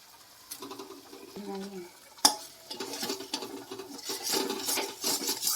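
Cashew, poppy seed and melon seed paste masala being fried and stirred in a pan for paneer, with a sharp utensil knock, then scraping stirs and soft sizzling growing louder.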